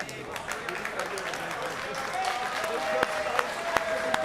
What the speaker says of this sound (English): A well-deserved round of applause from all here in the Bally's Event Center